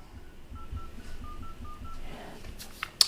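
Keypad dialing tones on a Samsung Galaxy Z Flip 4 as a phone number is entered: a quick run of short, even beeps in a steady rhythm, moderately quiet over faint room noise, ending with a couple of soft taps.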